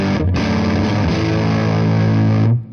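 Fuzzed electric guitar on the neck pickup strumming open cowboy chords, a couple of thick, sustained distorted strums ringing loudly and then cut off abruptly, no voices.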